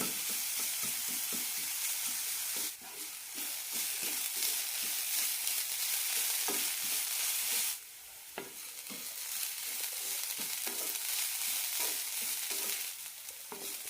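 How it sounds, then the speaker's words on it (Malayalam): Beetroot and coconut stir fry being sautéed in a pan, with continuous sizzling and the steady scrape of stirring throughout, close and fairly loud, with no talk. "നന്നായി വഴറ്റിയെടുക്കാം തേങ്ങയിലെ വെള്ളമയമെല്ലാം പോയി നല്ലൊരു റോസ്റ്റർ സ്മെല്ല് വരണം"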